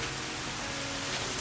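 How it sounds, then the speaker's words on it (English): Steady rain falls outdoors behind a tent, a dense, even hiss of drops with no talk, close and constant throughout. "as you can tell, it's raining behind me"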